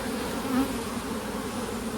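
Honey bees buzz steadily around an open hive during an inspection of worker-covered comb, a dense continuous drone held at an even level throughout.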